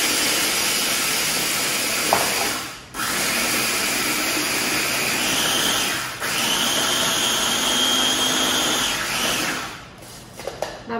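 A food processor pulverizes a whole package of cookies for a no-bake chocolate ice cream pie, its motor whirring loudly in close-up bursts broken by two brief pauses and a sputtering finish.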